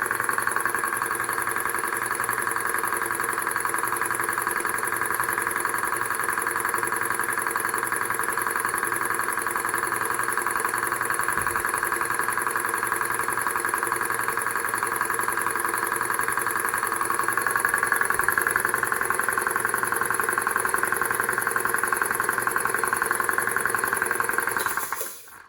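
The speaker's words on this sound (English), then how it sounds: "it's not silent by any means, but it's pretty bearable as far as an air compressor goes" A vintage air compressor runs steadily at close range, giving a continuous droning hum with a mechanical whine that holds even throughout before it cuts off abruptly at the end.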